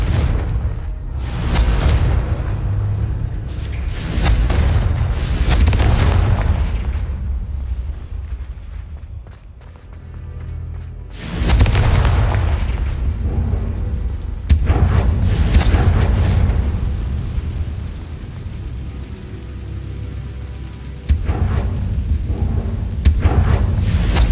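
Repeated Confringo blasting-spell explosions in the Hogwarts Legacy video game, loud booming bursts one after another with rumbling tails and brief gaps between blasts.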